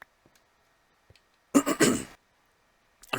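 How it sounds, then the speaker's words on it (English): A sick man clears his throat once, a short, loud, harsh rasp in an otherwise quiet room, followed by a faint start of another at the end. "I apologize for coughing constantly. Clearing my throat."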